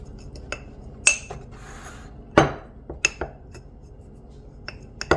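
A spoon works through a stiff, dry mix of flour and water for a sourdough starter in a bowl, giving irregular close scrapes and sharp clinks against the bowl with short quiet gaps.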